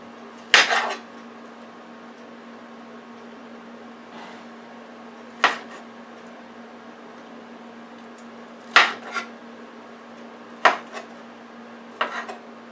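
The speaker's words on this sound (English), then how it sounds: "I'm going to cut the meat off now" A knife cuts meat away from the bone of a roast pork piece, producing a handful of separate sharp knocks and scrapes against a board or plate, spaced a few seconds apart over a low steady hum.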